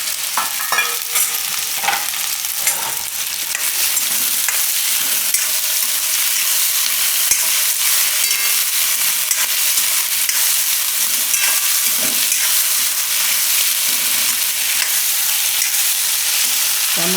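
Green peas frying in hot oil in a pot for a Gujarati pea and potato curry, a steady bright sizzle with occasional spoon scrapes as they are stirred, close and continuous throughout.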